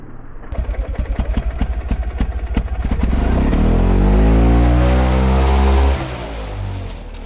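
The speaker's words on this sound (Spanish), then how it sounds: "dar gas, bajar las piernas, ir soltando el embrague progresivamente y intentar coger velocidad en pocos metros" A motorcycle engine revs in rapid blips, then the clutch is released and it accelerates away with a rising, sustained roar that fades slightly at the end, loud and close with no talk.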